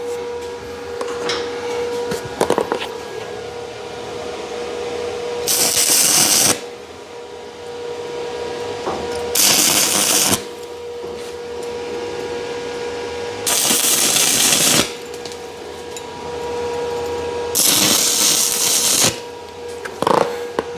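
Short bursts of tack welding on a guillotine tool frame, about four loud hissing crackles over a steady background hum.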